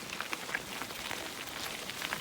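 Rain falls during a ride on the Hiawatha, a steady, soft patter of drops with scattered brighter taps, heard alone at low volume.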